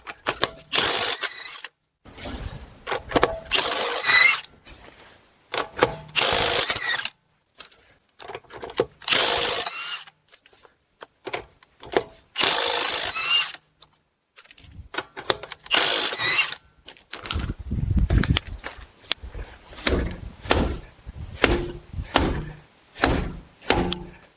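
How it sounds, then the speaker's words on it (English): Tools work at the rear wheel of a Buick Enclave, Chevy Traverse or GMC Acadia during removal, with bursts of ratcheting and power-tool whirring, metallic clanks and slams, close and loud with gaps of silence between. "Moving on to the rear, again, remove the wheel."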